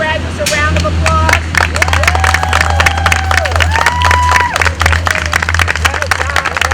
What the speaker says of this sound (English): may we all stand and give our graduates a round of applause